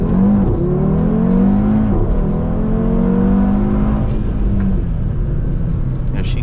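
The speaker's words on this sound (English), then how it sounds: "Give her a little bit more gas after this car goes here." A 600-horsepower Audi TT RS with a five-cylinder engine accelerates in sport mode on a night drive, heard from inside as a loud, rising engine drone that sweeps upward, dips at a gear change and climbs again.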